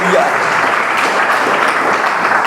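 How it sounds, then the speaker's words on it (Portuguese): A church congregation applauds during a Portuguese-language sermon, a dense, continuous wash of many hands clapping, loud and close, with no talk over it. "Aplauda o Senhor Jesus com alegria."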